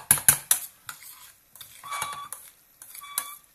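A spoon scraping and knocking in a pot while peanut rougail is stirred, starting with several sharp clinks and then moving into softer scraping strokes, with no voices.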